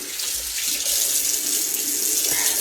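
Water runs steadily from a kitchen sink faucet while food is rinsed, a loud, even hiss and splash with no talking.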